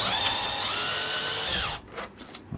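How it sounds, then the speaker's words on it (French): Power drill whirring steadily as it backs screws out of an RC car's roll cage, a Super Lasernut being upgraded to 8S, running loud and close for nearly two seconds before stopping, followed by a few faint handling clicks. "Donc, je vais dévisser ici et dévisser ici."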